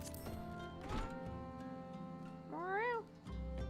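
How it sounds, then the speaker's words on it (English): A cat in a fantasy video game gives a single clear, rising-and-falling meow near the end, heard over a steady game soundscape of tonal music and ambience. "Was that a cat?"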